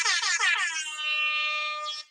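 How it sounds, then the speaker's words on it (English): A DJ air horn from a phone app blasts a quick stuttering series of honks, then holds one long blaring tone before cutting off. "I think it calls for a DJ air horn"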